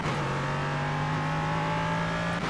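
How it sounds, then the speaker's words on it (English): An LMP3 race car engine in a racing video game drones loudly at high revs, holding a steady pitch that dips slightly near the end. "You may have heard the revs die slightly."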